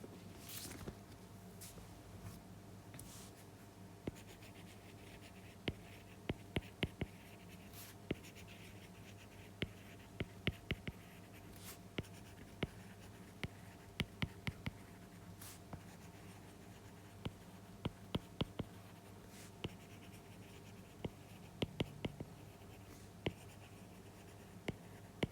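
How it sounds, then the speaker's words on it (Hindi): A pen writes the German word arbeiten by hand on paper, a quiet stream of small scratchy strokes and ticks in uneven bursts, close up against a faint steady hum. "तो सबसे पहले मैं लिखती हूँ हर जगह आर्बाइटन।"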